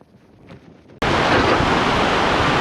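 Ocean waves surge onto land. A quiet, faint background breaks suddenly into a loud, continuous roar of crashing water and spray that holds at full strength to the end.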